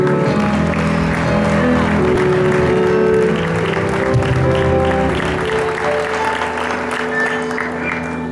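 A congregation at an Easter church service claps steadily and densely throughout, with sustained musical tones running underneath the applause.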